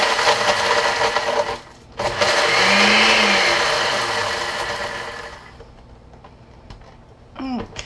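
A food processor chops cooking ingredients in loud, close whirring pulses, the motor surging and easing over several seconds before winding down, with a short final burst.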